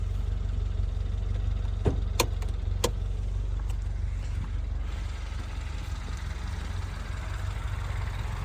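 Steady low engine hum of a 2022 Subaru WRX heard from inside the cabin, a constant idle drone with a few sharp clicks early on, no talking.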